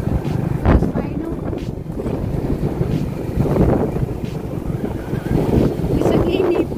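Strong wind buffets the microphone outdoors in a hillside village area, a steady broadband rush with gusts swelling and easing throughout, faint voices in the background.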